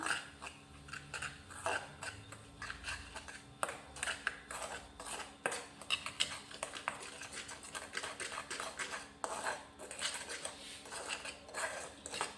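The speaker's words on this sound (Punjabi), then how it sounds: "ਆਪਾਂ ਇੱਕ ਚਮਚਾ ਇਹਦੇ ਵਿੱਚ ਇਹਨੂੰ ਚੰਗੀ ਤਰ੍ਹਾਂ ਨਾਲ ਆਪਾਂ ਮਿਕਸ ਕਰ ਲਾਂਗੇ" Soft, rapid metallic clinks and scrapes come from a spoon stirring a homemade cleaning mixture with lemon in a steel bowl, fairly faint and irregular, with no one speaking.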